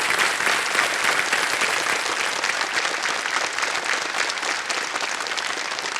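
Sustained studio audience clapping on a Kaun Banega Crorepati quiz show set, a thick continuous wash of hands that holds strong and steady from start to finish, easing only slightly toward the end.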